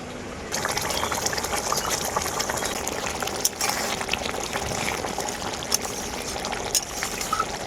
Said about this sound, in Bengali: ভেজে রাখা মাছগুলো দেওয়ার পর আবারও ঝোলটাকে আমি খুব ভালো করে ফুটিয়ে নিয়েছি